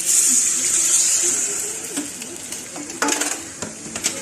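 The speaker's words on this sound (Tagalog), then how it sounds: "pwede natin siyang ibuhos dito sa ating ginisa" A mixture poured into a Filipino sauté of aromatics sizzles loudly in the pan, then settles into softer frying with a few clinks of a utensil against the pot.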